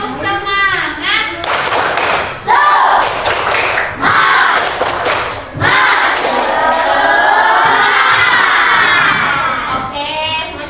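Schoolchildren in a classroom run through the 'tepuk semangat' chant again, rhythmic bursts of loud group clapping interleaved with shouted chanting voices, ending in a long cheer-like vocal swell.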